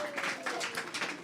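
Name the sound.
audience applause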